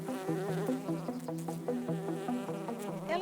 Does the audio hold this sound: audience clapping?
no